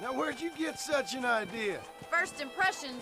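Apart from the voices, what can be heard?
No everyday noise stands out behind the speech.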